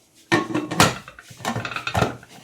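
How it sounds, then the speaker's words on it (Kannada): A pressure cooker lid is set on and closed over coconut pulao, with a few close metallic clanks and rattles in quick succession, loud at first and then a second cluster of knocks. "ಇವಾಗ ಕುಕ್ಕರ್ ಕ್ಲೋಸ್ ಮಾಡಿ"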